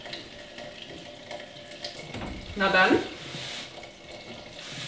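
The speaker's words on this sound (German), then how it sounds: "Ich lasse jetzt mal noch ein bisschen Wasser laufen und gucke." Water from a tap running into a sink in a tiny house, a short splashing burst in the middle amid faint background noise, with a brief voice speaking.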